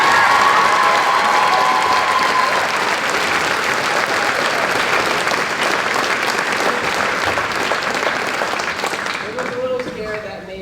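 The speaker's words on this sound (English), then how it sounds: "we have a round of applause for that" A high school theater audience at a Wizard of Oz musical bursts into sustained applause with some cheering, a dense, loud roar of clapping that tapers off at the end.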